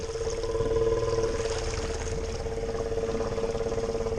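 An ATV with Outlaw 3 tires ploughs through deep swamp water, pushing a wave with its headlight; a steady engine drone mixes with continuous churning, sloshing water, close and fairly loud throughout.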